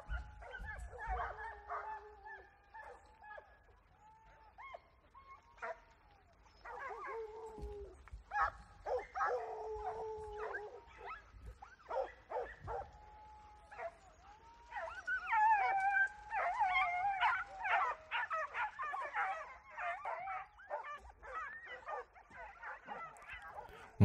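Hunting dogs on a wild boar hunt in Las Pilas bark, yip, whimper and howl in overlapping bursts, some distance off in open scrubland, with faint voices now and then underneath.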